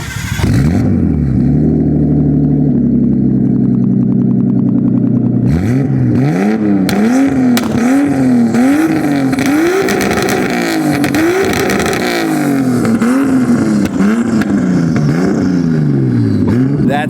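Nissan RB20 engine with a Tomei turbo and straight pipe on a four-door drift car, idling low then revving hard in repeated rising and falling sweeps toward high RPM, loud and close throughout, a voice talking faintly underneath.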